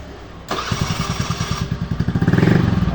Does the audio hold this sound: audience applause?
no